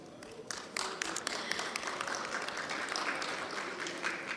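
An audience at an international conference on Islamophobia breaks into applause, a dense wash of clapping that swells quickly and carries on steadily.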